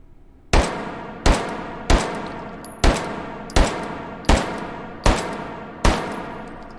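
Eight sharp Walther P38 pistol shots fire at a steady pace on a range in the VR game H3VR, each a loud crack with a short ringing tail and a faint metallic ping of ejected brass.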